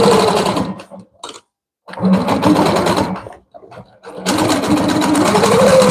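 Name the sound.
longarm quilting machine stitching a quilt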